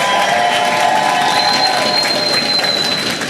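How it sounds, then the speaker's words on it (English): Loud crowd applause and cheering at a political party platform launch in the Bahamas, dense clapping with sustained whistles and shouts throughout a short burst. "I think that deserves a bigger round of applause."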